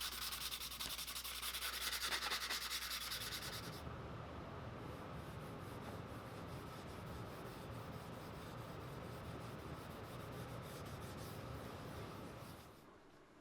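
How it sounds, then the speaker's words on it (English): Steady, close rasping of sandpaper rubbed back and forth over wood, continuous and even, fading slightly at the end. "A final sanding to ease the sharp edges"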